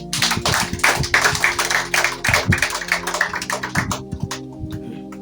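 A church congregation clapping for Jesus during a Swahili sermon, steady rhythmic handclaps from a crowd, loud and close, with faint background tones beneath and no speech over it.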